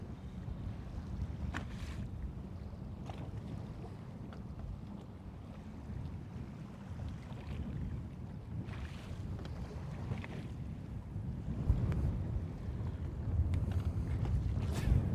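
Wind gusting over a lake, a steady rumbling roar with buffeting against the microphone and faint water motion, rising in strength toward the end, with no voices.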